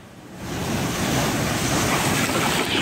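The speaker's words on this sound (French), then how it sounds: "Dès que les vagues ont commencé à déferler" Large ocean waves crash and break in a heavy, continuous roar of surf, loud and close, with wind noise buffeting the microphone throughout.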